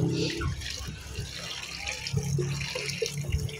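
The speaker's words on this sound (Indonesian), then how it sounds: "Ini kita cuci biar apa ya, getahnya hilang ya teman-teman." Kitchen tap water runs steadily over food being washed in a strainer at a sink, a continuous close splashing rush with small clinks of handling throughout.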